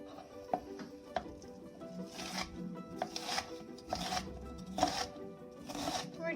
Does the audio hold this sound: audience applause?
no